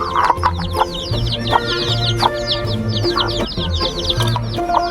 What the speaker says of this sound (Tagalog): Napansin ko nga itong alaga naming manok talaga namang napakaraming sisiw